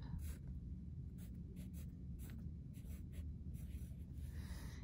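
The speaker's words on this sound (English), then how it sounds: "we're going to write our date up at the top" A pencil writes a date at the top of a sheet of paper, giving soft scratchy strokes in short bursts over a low steady background hum.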